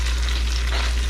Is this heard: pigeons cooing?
no